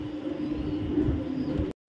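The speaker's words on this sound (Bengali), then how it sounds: "এখানে দেখাবো একটা টাইগার গ্রিজেল কবুতর" Tiger grizzle racing pigeons of a foreign bloodline cooing, a steady low murmuring coo held close by for nearly two seconds before cutting off abruptly.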